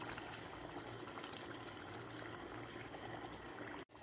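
Water is poured into a pan of potatoes fried with spices over a medium flame, giving a steady close sizzle and splash that runs unbroken for several seconds and cuts off sharply near the end.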